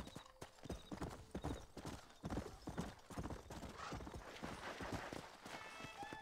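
Hooves of the horse Shadow pound in a quick, uneven clip-clop as he runs in Red Dead Redemption, moderately close and with no talk over them.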